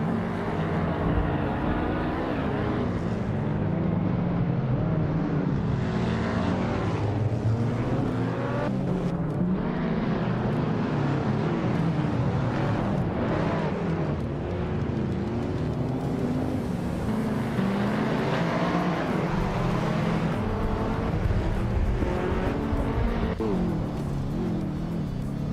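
Racing cars roar around a tight circuit of sharp corners and short straights, engines revving and surging through hard braking and quick acceleration in a loud, continuous, overlapping drone with no talk.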